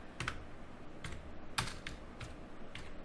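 Typing on a computer keyboard while entering HTML code: a handful of separate key clicks in an irregular rhythm, close and quiet, with no voice.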